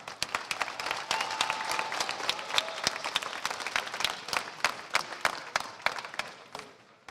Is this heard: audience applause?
yes